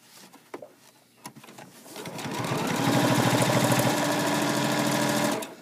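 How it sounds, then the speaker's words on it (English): A JUKI HZL-70 portable sewing machine stitches through a thick hem of three to nine layers, starting with a few soft clicks and handling noises, then running steadily and loudly for about three seconds before stopping. "I'm going to sew this hem, and I'm going to go from 3 layers to 9 layers"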